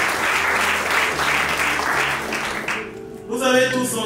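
Wedding guests clap and cheer in a dense burst of applause that fills the ceremony hall for nearly three seconds before fading, followed by a short pause and then an officiant beginning to speak again.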